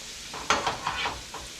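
Octopus sizzling in a hot pan, a soft steady frying hiss with a few brief louder crackles, close and without talk.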